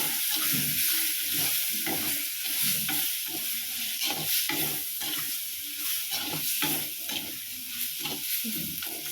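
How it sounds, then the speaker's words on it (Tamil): Chicken fry with coriander being stirred and tossed in a hot pan, steady sizzling with repeated scraping spatula strokes throughout, close and continuous with no talking. "இப்போ அதை நல்லா தட்டி விட்டுக்கலாம்"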